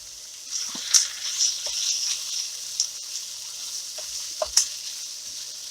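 Potatoes drop into a hot pan on the road for a big breakfast and begin frying, a thin steady sizzle broken by a few sharp sputters and light clatters, near and moderately loud.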